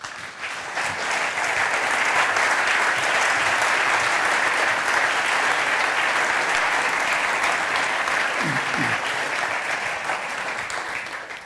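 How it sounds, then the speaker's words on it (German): Sustained, loud applause from a large audience, a steady wash of clapping that holds for the whole stretch and only slightly tapers at the end. "bitte mit einem großen Applaus"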